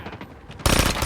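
Automatic gunfire in Call of Duty Mobile, a loud dense burst that starts abruptly after a quieter stretch of rapid faint shots and continues to the end.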